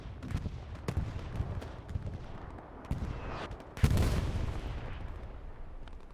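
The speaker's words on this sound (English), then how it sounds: "Bombing run going over the back line" Bombing run explosions in the WWII shooter Hell Let Loose on the Tobruk map, with scattered gunfire cracking throughout and a heavy blast near the middle that leaves a rumbling, sustained roar.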